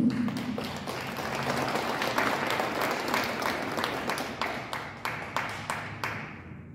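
An audience applauds to welcome a speaker at an indoor community gathering, loud continuous clapping that thins into scattered, separate claps before fading out.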